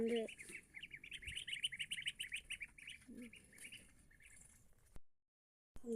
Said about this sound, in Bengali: ওদিকে রয়েছে বাচ্চা চিনা হাঁসের বাচ্চা